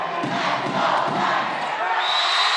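Loud gym crowd roaring and cheering steadily at a boys' Division 1 volleyball championship, Kamehameha versus Punahou, a dense sustained wall of voices with a commentator talking underneath.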